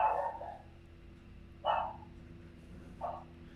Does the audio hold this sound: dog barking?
yes